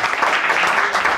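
A church congregation cheers and applauds together in a dense, loud burst of clapping and voices that fills the short moment without pause.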